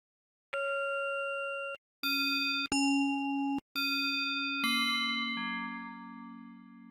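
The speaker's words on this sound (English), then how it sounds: "I need a synth bell, really." A series of synth bell notes from FL Studio for a phonk beat, six distinct tones of varying pitch played one after another, each clear and sustained, the last one ringing out and fading, with no voices.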